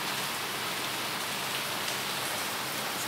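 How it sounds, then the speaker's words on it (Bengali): Steady, even rain pattering down continuously, a dense wash of drops with no voices. "বাহিরে বৃষ্টি পড়ছে"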